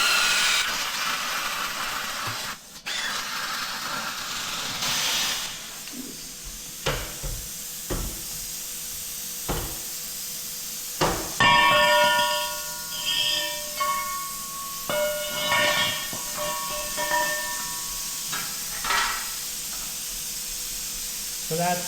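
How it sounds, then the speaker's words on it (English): Cutting torch slicing through metal on a truck frame during a high-pinion Dana 60 axle swap on an off-road wrecker, a steady close hiss broken by sharp pops, crackles and short tonal whines, with no talk. "I can't get the torch in there very good right now, so I'm just going to cut it from this other side"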